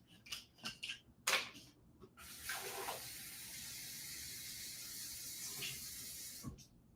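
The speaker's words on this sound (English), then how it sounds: "I think my iron needs more water." Water is poured into a steam iron, a faint steady trickling hiss lasting a few seconds after some soft handling knocks and bumps, quiet and close with no speech.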